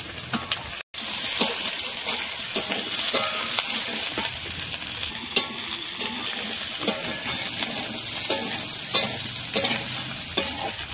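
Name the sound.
vegetables frying and being stirred in a pan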